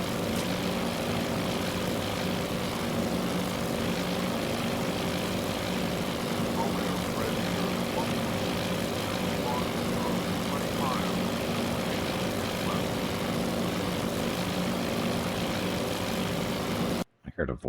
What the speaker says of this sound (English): So the B-17s are off doing their thing.